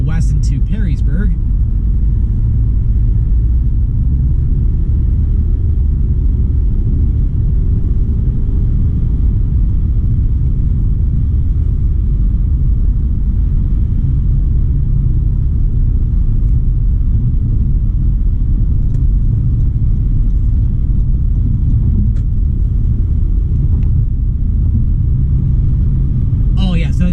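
A car cruises along a Toledo, Ohio freeway, a steady low road and engine rumble from inside the cabin throughout, with a driver talking over it.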